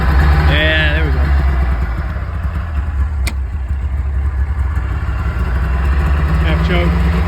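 A Polaris snowmobile engine, half-choked after being frozen in, runs steadily at close range with a low rumbling drone throughout, while voices talk briefly over it outdoors.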